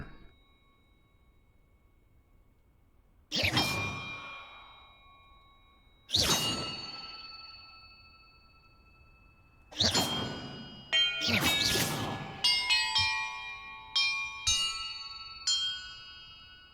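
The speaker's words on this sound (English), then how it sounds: "Perhaps the map contains clues about the order I'm supposed to ring the bells in." Large bells struck one at a time inside Hogwarts Legacy, four loud clanging strikes spaced a few seconds apart, then a quicker cluster of overlapping chimes whose bright ringing tones hang and decay, with no talking.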